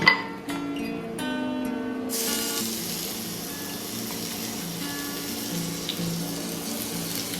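Tap water runs steadily into a kitchen sink during hand washing, a continuous close splashing rush that follows a brief clatter at the start.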